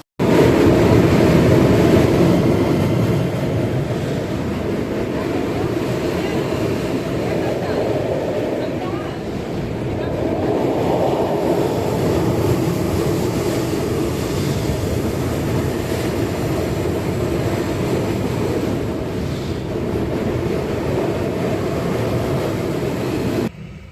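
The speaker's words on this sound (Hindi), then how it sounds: "और हमारे ट्रेन का डिपार्चर भी हो गया यहाँ से।" Kamayani Express passenger train on the Varanasi to Mumbai route pulling out and running, a steady loud rumble of wheels and carriage noise that holds throughout, with voices talking over it.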